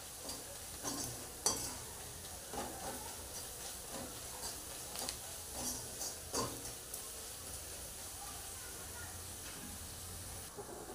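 Tawa pulao with pav bhaji masala is stirred on a flat iron tawa, a low steady sizzle overlaid with a series of soft scraping strokes and one sharper clink, fairly quiet and close.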